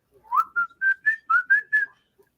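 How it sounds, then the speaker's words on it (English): A short tune of about seven whistled notes, clear and close, each note distinct with small gaps between them. "Suddenly, the sound of someone whistling."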